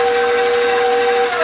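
An electric mixer whirs steadily and loudly, close by, as it beats cookie dough with vanilla extract, one continuous high-pitched motor drone with no pauses.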